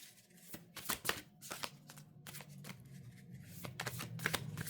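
Oracle cards shuffled by hand, a run of soft riffling flutters and slaps of varying loudness, close up, with no talk.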